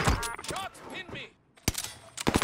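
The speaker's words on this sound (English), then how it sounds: "Taking fire." Kar98 bolt-action rifle fire in the Warzone shooter game (Vanguard Kar98), with voices talking over the first half before a pause and a few sharp, loud shots near the end.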